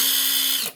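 A Tenwa impact wrench runs in reverse with a steady, close motor whine for under a second, then spins down and stops abruptly.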